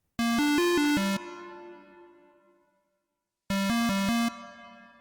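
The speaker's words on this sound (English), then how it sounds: "Put a band in the base of the reverb and just like turn it down." A short synth phrase of five quick bright notes plays twice, each burst cut off into a long fading reverb tail whose low end has been turned down, leaving a thinner, airier decay.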